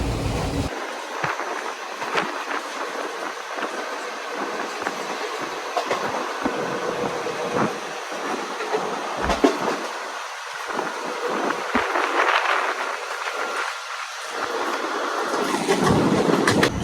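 The Prasanthi Nilayam Express runs at full speed, a loud continuous rumble with rhythmic clickety-clack of wheels over rail joints and occasional brief squeals, with no voices.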